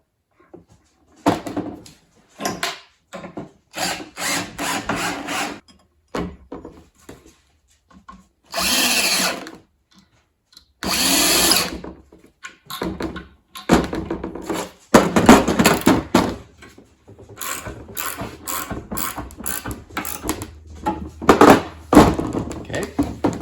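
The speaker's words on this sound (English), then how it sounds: "Now we're going to mount the motor bracket to the board." Power drill driving screws to mount a motor bracket onto a wooden board while motorizing an 8 x 12 C & P letterpress, heard in repeated bursts of whirring with pauses and occasional clunks between them.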